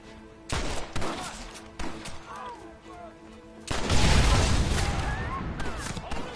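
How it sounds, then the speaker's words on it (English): Rapid gunfire from a Gatling gun in a Red Dead Redemption-style western game, bursts of shots building into a loud, sustained barrage in the second half, mixed with other game noise and a voice. "You man the Gatling gun"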